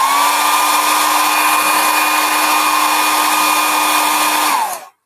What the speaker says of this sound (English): I'm going to get my hairdryer on it, guys, just to speed it up and stop my waffling.